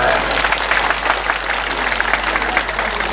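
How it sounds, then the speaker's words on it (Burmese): Audience clapping at a Buddhist sermon gathering, a dense steady round of applause from a crowd lasting throughout, with speech mixed in over a low hum. "ကဲလက်ခုပ်ချက်တီးပေးလိုက်"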